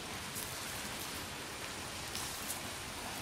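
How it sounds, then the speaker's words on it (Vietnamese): Heavy rain pouring down with strong wind outdoors, a dense, steady hiss of drops on surfaces continuing evenly throughout, fairly faint and with no voices. "Tình hình là mưa to gió lớn quá mọi người ạ."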